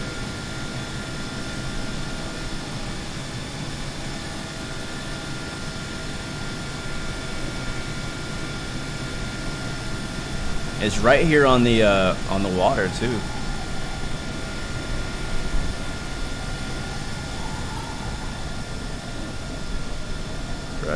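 An Airbus A330 in Microsoft Flight Simulator gives off a steady, even jet engine hum, constant and moderate throughout, with a voice talking over it.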